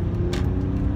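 A 2003 BMW E46 M3 with SMG gearbox pulls in third gear, its engine a steady, close, low drone under a brief rushing swell of air partway through.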